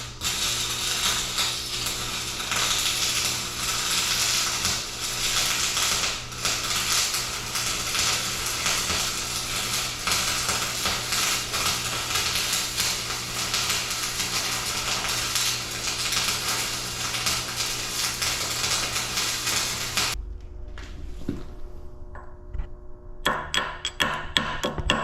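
Wire welder laying beads to weld armor onto excavator buckets, a steady loud crackling sizzle running continuously for about twenty seconds before stopping, then a few short bursts near the end.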